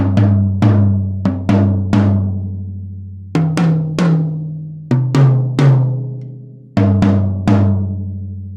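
Low tom on an acoustic drum kit, tuned high with no muffling, struck repeatedly in small clusters of hits, with a deep resonant boom that rings out between strokes, close and alone.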